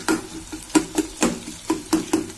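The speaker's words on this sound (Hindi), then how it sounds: "अच्छे से हिला लें इनको" Sliced onions stirred in hot oil in a pan while making chilli paneer, with repeated spoon scrapes and knocks in an uneven rhythm over a soft sizzle, close and fairly loud.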